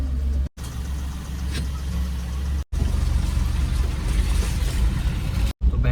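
A car passing through Baneda toll plaza, with a steady mid-range engine drone and road noise running continuously, interrupted by a few brief cuts to silence.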